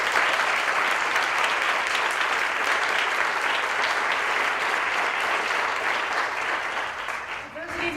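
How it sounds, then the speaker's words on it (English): Sustained applause from an audience for guest performers at a community cultural storytelling event, steady and dense clapping throughout that tapers slightly at the end. "Please give our talented guests another round of applause"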